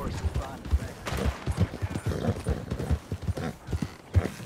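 Horse hooves clip-clop in the Red Dead video game, a fairly quiet rhythmic series of soft thuds at a steady trotting pace under overlapping game sounds and talk.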